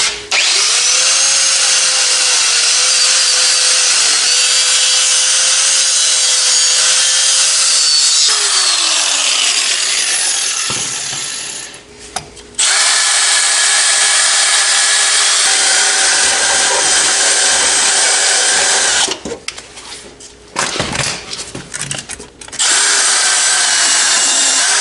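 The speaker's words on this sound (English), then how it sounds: "I'm going to hit a combination of the wire wheels here" Air-powered wire wheels grind and scour rust from a car's bodywork in a loud, continuous whine that drops in pitch and cuts out briefly twice before spinning up again, with no talking.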